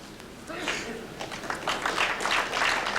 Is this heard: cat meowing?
no